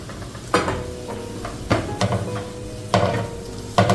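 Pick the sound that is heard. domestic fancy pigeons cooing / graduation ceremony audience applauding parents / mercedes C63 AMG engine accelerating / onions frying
onions frying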